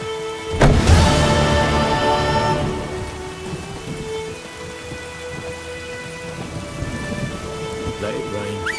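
Heavy rain and a thunderclap in Witcher 3: Wild Hunt, with a sharp crack and rolling boom near the start giving way to a steady downpour hiss, with faint voices and music underneath.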